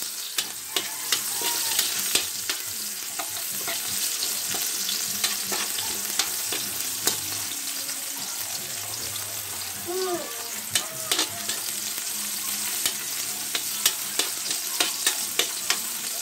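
Onions sizzle loudly as they fry in a pan alongside fishballs, with a steady close crackle broken by intermittent scraping and clinking as the mixture is stirred.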